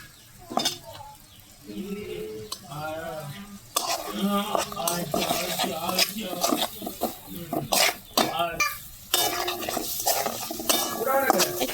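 Spices sizzling in a pan for a water lily and shrimp curry, with stirring and scraping clatter against the pan over the frying hiss, close and fairly loud with a voice talking briefly.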